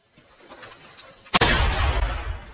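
A single sharp gunshot cracks out in a jungle action scene, followed by a loud rumbling burst of sustained noise after a quiet stretch.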